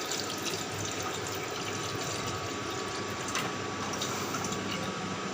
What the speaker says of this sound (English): So first of all, I will put water in this.